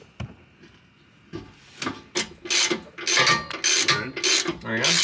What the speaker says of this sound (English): So now I'm just installing the 18mm bolt and the knuckle